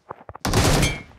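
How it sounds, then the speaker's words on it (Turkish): Burst of automatic gunfire in the game PUBG on the Erangel map, a loud sustained volley of about a second following a few faint short sounds, with no talk over it. "Nereden sıkıyor sana?"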